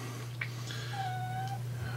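A house cat makes a soft, drawn-out meow-like whine against a steady electrical hum, close but faint, with no talking.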